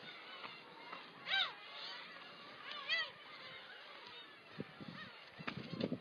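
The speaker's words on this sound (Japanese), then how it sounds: "ただ、ウミネコは腐るほどいます。" Black-tailed gulls call from a crowded seaside colony: two or three loud, drawn-out mewing cries stand out from a steady backdrop of more distant gull chatter and a few short, sharp calls toward the end.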